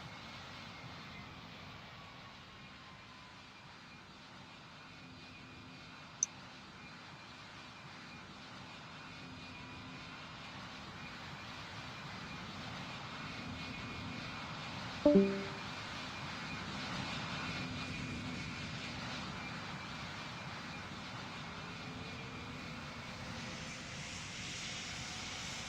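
An airliner taking off in the Roblox game Pilot Training Flight Simulator gives a steady, fairly faint engine roar that builds gently, with one sharp click early on and a short louder burst partway through.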